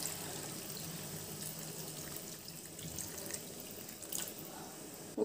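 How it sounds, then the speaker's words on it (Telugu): Water is poured into a brinjal, potato and egg curry in a pan, a soft, steady trickling splash with a slight rise near the end, quiet and with no speech. "సరిపడ వాటర్ యాడ్ చేసుకోవాలి"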